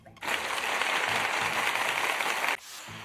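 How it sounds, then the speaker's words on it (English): A short burst of applause from a crowd, steady clapping for a couple of seconds before cutting off abruptly. "Thanks for the applause."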